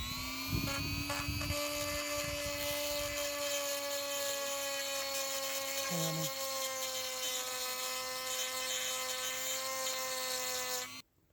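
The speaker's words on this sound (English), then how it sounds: "Here's where I Dremel the case here" A Dremel rotary tool grinds a Yamaha Blaster motorcycle engine case with a steady high-pitched whine, close and continuous, with brief bites of contact before it cuts off at the end.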